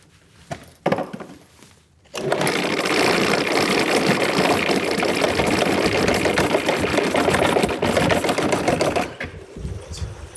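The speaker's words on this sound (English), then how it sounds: "So now the wheel's spinning." A bicycle wheel spins fast on its axle, giving off a loud, steady whirring rattle with rapid even ticking that runs for several seconds, then stops abruptly.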